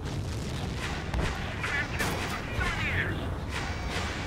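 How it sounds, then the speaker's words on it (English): Bunker buster launched in Ace Combat 7 amid a dense, loud rumble of jet and combat noise, with heavy booming bursts through the clip and radio-style voices over the top. "Firing the bunker buster."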